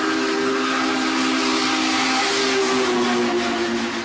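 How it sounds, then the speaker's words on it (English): A train horn, pulled as a rally symbol by the Arkansas Razorbacks baseball team, blows one loud, steady, sustained whistle-like tone that holds unbroken throughout. "Everyone wants to get on the base and be able to pull the horn"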